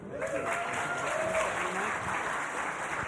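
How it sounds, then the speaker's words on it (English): Audience applause for Colorado Governor Jared Polis and Wyoming Governor Mark Gordon after a fireside chat, a steady crowd of clapping hands sustained throughout with a voice briefly audible underneath. "Big round of applause, please."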